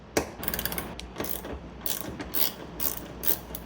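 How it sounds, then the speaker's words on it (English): A hand ratchet with a 12mm socket clicks in quick rhythmic bursts while backing out the sliding door bolts on a 2005 Honda Odyssey, close and fairly quiet. "I'll use a 12mm socket to get these two out."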